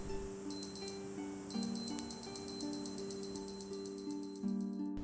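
A Timex Q80 Continental digital watch sounds its alarm: a pair of quick electronic beeps, a pause, then a steady run of about eleven high, shrill beep bursts in even rhythm, close and fairly loud against a faint hum.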